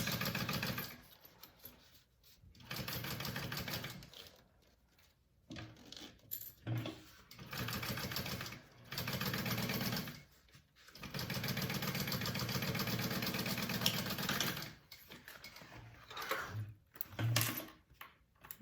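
A sewing machine top stitches along a zipper on a handbag, running in several bursts of steady mechanical whirring separated by short pauses, close and fairly loud with no voices.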